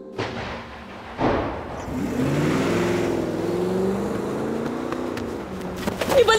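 A car engine revs hard and pulls away, a loud, steady roar that holds on as the vehicle speeds off, with a rougher burst toward the end.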